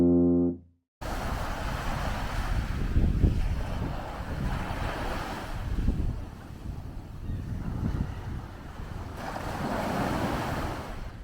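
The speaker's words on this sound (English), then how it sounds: "just enjoying the beautiful scenery, listening to the waves" Ocean surf at Poipu Beach, Kauai, rolls in and washes out in repeated swells, mixed with gusty wind buffeting the microphone.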